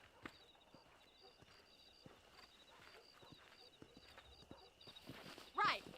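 Faint, rhythmic horse hoof clip-clops plod steadily in the distance amid light ambience in the video game Red Dead Redemption, ending with a brief louder whinny-like burst.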